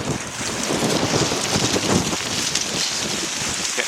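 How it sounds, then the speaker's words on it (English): Steady, loud wind buffeting the microphone, a continuous broadband roar with gusty swells and no voices. "Getting quite windy."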